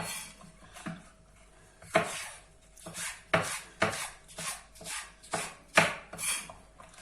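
Steady knife chopping of red and green peppers on a cutting board, about a dozen firm, rhythmic strikes in a row, close and clear with no talking.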